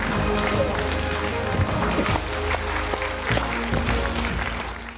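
Studio audience applauding to welcome a guest on a Chinese talk show, dense sustained clapping from a crowd, loud and even throughout, with background music underneath.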